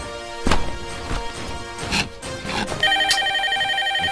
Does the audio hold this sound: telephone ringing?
yes